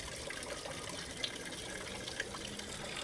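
Steady rushing water from a small backyard pond waterfall, a continuous close splashing wash with no pauses and no voices.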